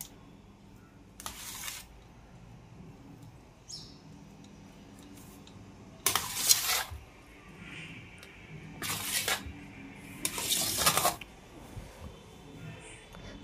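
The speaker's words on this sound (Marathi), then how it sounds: "सर्व पीठ रगडून झालं की हे उलटण्याच्या सहाय्याने एकत्र करायचे" A spatula scrapes and folds rubbed flour dough in a bowl while making bobi patti papad, with four short scraping strokes separated by quiet pauses.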